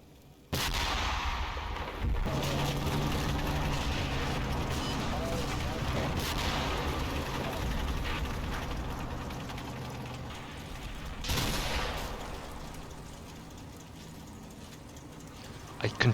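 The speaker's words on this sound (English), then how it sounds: "Cooking shells exploding in the dark night." Shells cooking off and bursting through a night battle in Combat Mission's Operation Epsom, heard as a sustained rumbling wash of explosions with scattered sharper cracks and a louder burst near the end.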